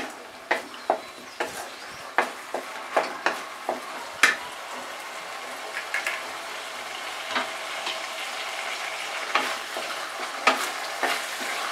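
Medium potatoes fry with green chilli paste in a pan for spicy Bengali aloo dum. A continuous sizzle runs beneath a rhythmic series of sharp spatula scrapes and knocks, regular at first and then sparser.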